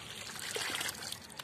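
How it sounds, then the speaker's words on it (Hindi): Pesticide being poured and stirred into water in a container for spraying vegetable crops in a field, a brief soft trickle and splash of liquid, fairly faint and close. "दवा घोर रही है"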